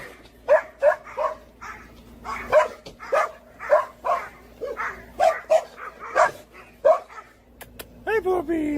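A dog barks repeatedly in short, yappy bursts mixed with whiny whimpers, fairly close, against a quiet background with a low hum.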